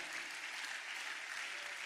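A church audience claps together in celebration during a morning service, a dense, steady wash of applause that holds evenly throughout.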